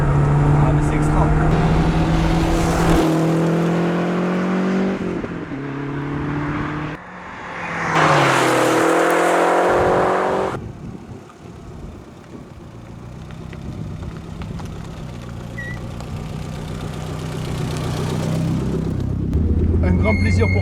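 A Lancia Delta Integrale 16v with a Group A exhaust rumbles and revs loudly up close, its engine note rising and falling in surges before settling to a lower throb, with a voice speaking over parts of it.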